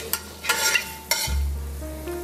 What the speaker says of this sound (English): you saute first the garlic